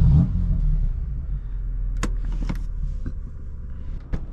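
Stock exhaust of a 2020 BMW F82 M4 Competition with a six-speed manual, exhaust valves closed, idling as a steady low rumble with a few sharp clicks and ticks layered over it.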